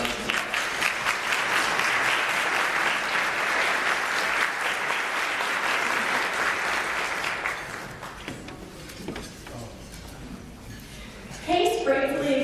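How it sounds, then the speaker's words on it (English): A luncheon audience gives a round of applause for supporters, the steady clapping holding strong for several seconds before thinning out, with some voices and room noise following near the end. "Please give them a round of applause."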